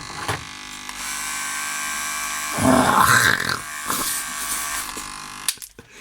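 A corded Premier electric hair clipper hums with a steady, dense buzz, running continuously up close with slight shifts in pitch and a brief cut near the end.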